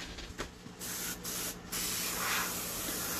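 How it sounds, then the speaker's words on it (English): An airbrush sprays Createx paint in a steady hissing stream, with brief pauses and restarts before a longer continuous burst, close and fairly loud. "but if I spray that out"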